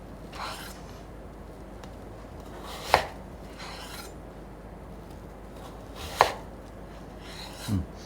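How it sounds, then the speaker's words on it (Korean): A kitchen knife chopping radish into 1 cm pieces on a cutting board, a few sharp isolated knocks spaced seconds apart between soft sliding scrapes, close and quiet with no talking. "그 다음 다시 이렇게 1cm 두께로 잘라줍니다."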